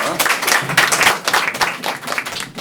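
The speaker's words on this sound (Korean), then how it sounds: "박수 한번 주세요." A small group claps steadily for a few seconds, a brief round of applause in a room.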